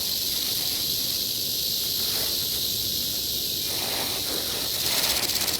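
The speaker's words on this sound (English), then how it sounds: "The hunter listens for the telltale rattle." A steady, dry buzzing rattle from a rattlesnake in a burrow sprayed with gasoline runs continuously and fairly loud, with a faint hiss beneath it.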